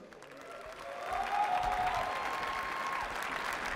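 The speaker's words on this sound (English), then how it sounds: "So big applause, please." Applause from a crowd at a football match swells and holds steady, a continuous wash of clapping with a faint whistle-like tone.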